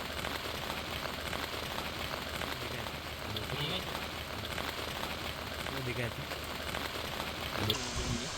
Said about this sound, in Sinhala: එළිය හොඳටම වහිනවා.